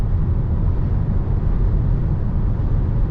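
A Skoda Kodiaq Sportline 2022 with the 1.5 TSI 150 HP engine and DSG gearbox cruises at 130 in 7th gear, giving a steady, loud low cabin drone of engine, road and wind noise with no talk.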